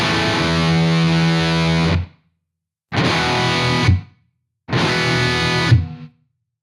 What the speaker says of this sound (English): Hear the noise gate working.